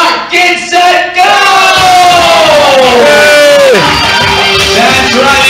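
A crowd cheers and shouts loudly and continuously during a timed Christmas party game, with whoops and high voices rising and falling over a dense roar.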